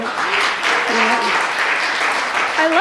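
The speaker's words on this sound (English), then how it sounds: "I didn't even pay you to clap at that one" A lecture audience breaks into steady clapping that holds for several seconds, with voices calling out and cheering over the applause.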